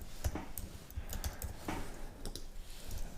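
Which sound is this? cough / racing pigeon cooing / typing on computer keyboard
typing on computer keyboard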